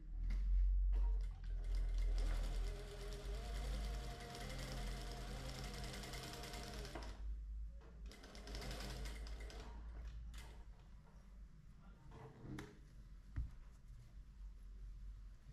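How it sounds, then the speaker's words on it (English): A sewing machine stitches a zipper fly cover in quick, steady mechanical bursts, running continuously for several seconds, pausing briefly, then whirring again before tapering off, all fairly faint and close. "Sew the fly cover in place."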